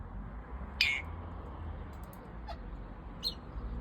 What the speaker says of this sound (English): Oh, listen to that bird.